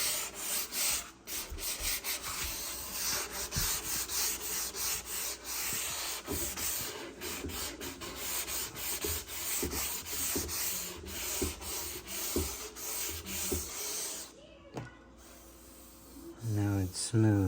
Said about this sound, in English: I'm gonna sand with the grain